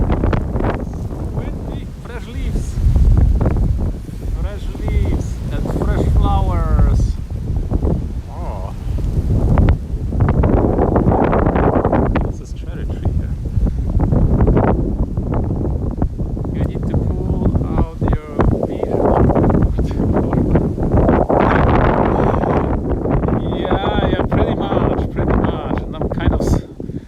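Gusty wind buffets the microphone outdoors in Tokyo, Japan, in loud, uneven rushes, with rustling of fresh leaves and a voice talking through the noise.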